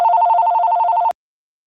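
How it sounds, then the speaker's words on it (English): A telephone rings loudly and close by in a rapid warbling trill for about a second, then cuts off abruptly into silence. "Ah, phone's ringing. Who's calling me?"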